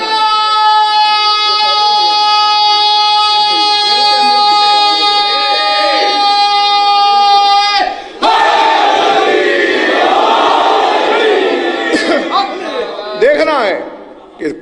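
Majlis congregation chanting religious slogans, first a sustained tonal chorus of many voices, then after a brief break a louder surge of crowd shouts and calls that fades toward the end.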